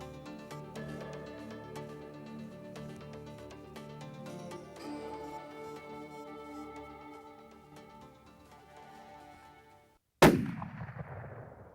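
Rifle shot while hunting elk: a single loud, sharp blast with a ringing tail that cuts in after about ten seconds of faint background music.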